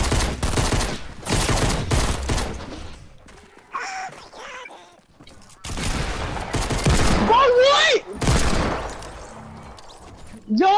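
Bursts of rapid gunfire from the battle royale game Fortnite at Tilted Towers, loud and close, in several separate volleys with short gaps between them and brief electronic effects in the pauses.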